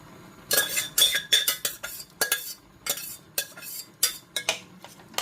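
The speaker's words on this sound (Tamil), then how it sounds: "ஊற்றி விட்டு நல்லா கிண்டி விட்டுலாம்." Cooked lentils are stirred into a pot of chayote for kootu, a spoon knocking and scraping against the metal pan in an uneven rhythm of about a dozen close clanks, with no talking.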